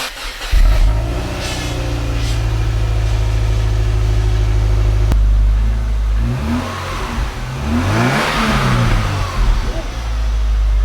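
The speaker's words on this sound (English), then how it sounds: "So let's give her a fire up." A rebuilt Subaru EJ253 engine cranks and fires up, settling into a loud, steady close-range idle with a rev that rises and falls midway, no talk over it.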